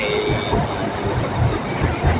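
A BTS Silom Line skytrain at Saphan Taksin station in Bangkok rumbles steadily along the platform, a broad continuous rolling roar with a faint high whine, heard up close and alone.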